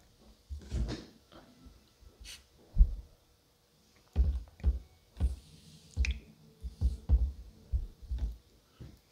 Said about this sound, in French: On rince la pierre pour enlever la boue d'avant.